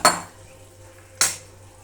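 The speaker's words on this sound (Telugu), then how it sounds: "ఉడికించుకున్న కందిపప్పు వేసేయాలన్నమాట." Two sharp metallic clinks about a second apart, a spoon striking a pan as cooked toor dal goes in for dal tadka, with a faint sizzle between them.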